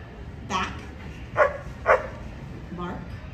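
Trained show dogs barking at Universal Studios Hollywood on a rainy day, with several sharp, separate barks spaced across a few seconds and fairly close, amid a handler's voice and crowd murmur.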